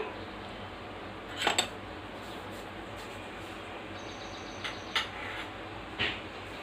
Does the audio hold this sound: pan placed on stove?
yes